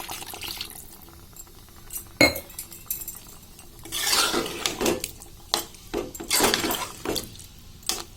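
Water is poured into a pan of egg curry with masala, and clinking and stirring of pots and utensils mixes in. Bursts of splashing and metallic clatter come at irregular moments, close and fairly loud, with no talk.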